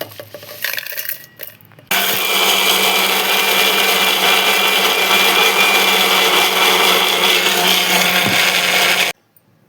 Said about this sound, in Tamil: இப்போ காஞ்ச மிக்சியில் இதை இந்த பொடியை நுணுக்கணும்